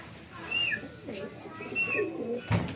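A racing pigeon at a loft coos twice in soft, close calls, with a short knock or thump at the end.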